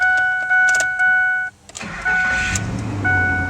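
A repeating electronic chime beeps steadily, then stops. A 2005 Ford F-150 pickup engine cranks on a newly replaced starter and catches, and a low idle settles in as the chime starts up again.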